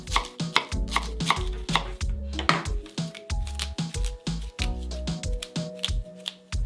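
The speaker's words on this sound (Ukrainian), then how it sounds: "Беремо пучок петрушки та нарізаємо." A knife chops a bunch of parsley on a cutting board in rapid, steady strokes. The close, crisp thuds come in quick runs and continue without a break.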